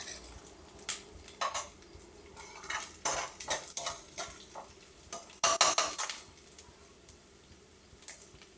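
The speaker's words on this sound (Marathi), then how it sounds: "आपला कांदा छानपैकी मस्त भाजतोय" Onion frying in a pan on a stove, stirred with a metal spoon: a soft sizzle underneath repeated sharp scraping and clinking strokes against the pan, close and irregular, with no talking.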